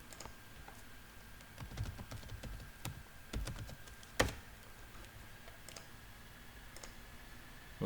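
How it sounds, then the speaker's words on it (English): A password typed on a computer keyboard: a quiet, irregular run of close key clicks spread over several seconds, with one sharper tap near the middle and no talking. "I type my password."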